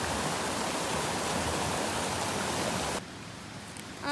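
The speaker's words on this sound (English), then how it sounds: "It's a big old waterfall." A big creek waterfall swollen by heavy rain roars as a loud, steady broadband rush, then cuts to a quieter, thinner wash of flowing water near the end.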